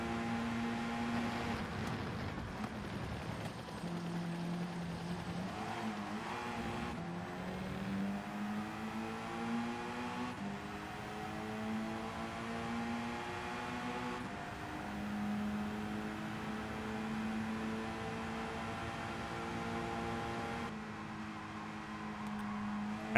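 Race car engines in a Gran Turismo 7 race at the Red Bull Ring, a sustained engine whine rising and falling through gear shifts, steady and moderately loud without speech.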